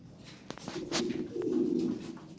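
Fancy Lahori pigeons for sale coo in one soft, rolling burst at close range, with a few light clicks just before.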